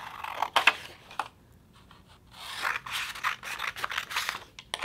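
Scissors snip through construction paper close by, in short quiet bursts of cutting separated by pauses, with no one speaking.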